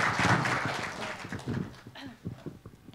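An audience claps at a members' night award ceremony, dense applause starting strong and thinning into scattered claps over about three seconds in a hall.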